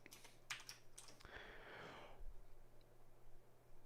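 Quick bursts of computer keyboard typing, a few close keystrokes entering a number in the Sublime Text editor, followed by a soft breath or sigh and quiet room hum.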